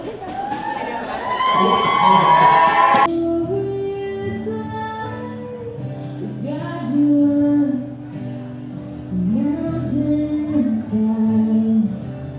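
An event crowd in Pittsburgh cheers and shouts, starting in a loud roar and then breaking into bursts of whoops and calls between quieter stretches, with voices and chatter mixed throughout.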